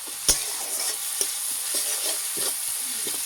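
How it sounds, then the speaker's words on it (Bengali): Onions frying in a pan of oil, a constant bright sizzle punctuated by a few sharp clicks and spoon-stirring scrapes, close and loud with no talking. "পেঁয়াজটা ভাজা ভাজা হয়ে গেছে"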